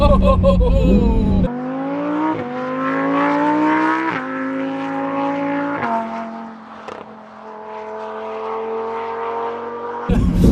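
A Lamborghini Performante accelerates hard, its engine note climbing through several gears with brief dips at each shift, loud and close from start to finish.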